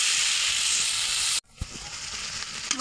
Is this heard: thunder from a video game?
no